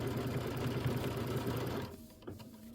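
A sewing machine pieces quilt block fabric with a loud, steady, fast needle hum that stops abruptly partway through, leaving a quiet room with a faint click.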